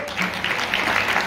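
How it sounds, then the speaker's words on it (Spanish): Applause rises at a ceremony honouring municipal workers, a short stretch of steady crowd clapping with a voice faintly present beneath it. "Aplauso."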